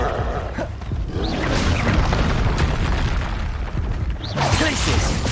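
Confringo spell blasts in Hogwarts Legacy gameplay, a dense, loud, continuous roar of booming explosions and crackling debris with no pause, and game voices mixed into the din.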